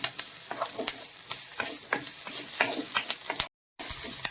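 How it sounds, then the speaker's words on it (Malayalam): Oil sizzles and crackles close up as green chillies and curry leaves fry in a pan, with repeated stirring scrapes and a brief cut to silence near the end. "പിന്നെ ഇത് നന്നായിട്ട് വറുത്തെടുക്കണം."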